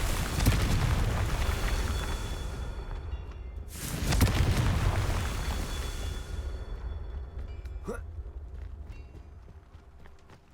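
A Confringo spell explosion in the video game Hogwarts Legacy makes a loud, roaring burst that rumbles and fades out, then comes a second blast followed by a brief sharp crackle.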